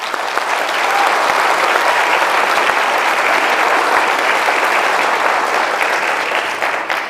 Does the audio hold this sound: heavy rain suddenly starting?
no